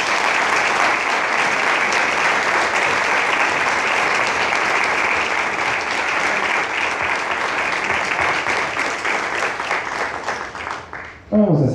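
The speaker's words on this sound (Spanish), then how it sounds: "Dale un fuerte aplauso al Señor." Loud, dense applause from a church congregation at an apostolic evangelistic gathering, a sustained wash of many hands clapping together that holds for about eleven seconds and then quickly fades.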